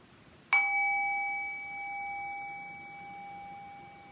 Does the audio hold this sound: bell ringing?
yes